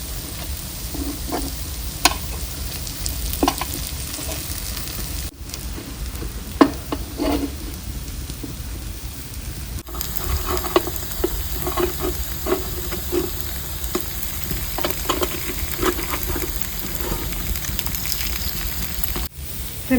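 Paddu batter cooks over a medium flame in a village kitchen pan with a continuous, even sizzle and occasional light taps and scrapes from a utensil turning the dumplings.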